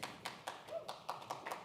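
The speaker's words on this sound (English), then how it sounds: "You're getting applause." Faint, sparse clapping from a small audience at a technology summit in Washington, D.C., about eight separate claps at an uneven pace, distant and quiet.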